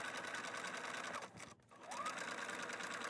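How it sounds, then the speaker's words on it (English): Sewing machine hemming the skirt layer of a doll dress, a steady close mechanical whirr of stitching that briefly drops out mid-run and then resumes. "First, we're going to hem the skirt layer."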